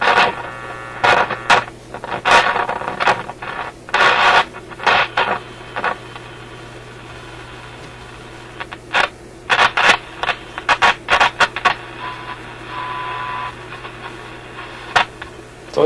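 Canadian General Electric KM-5 vacuum tube radio, powered up and receiving, gives off crackling static bursts and scratchy noise over a steady mains hum, with irregular loud pops and quieter stretches.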